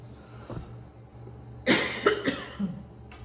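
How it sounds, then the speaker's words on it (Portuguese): A burst of harsh coughing up close, several coughs in quick succession over a faint steady hum. "Começou essa tosse chata de novo."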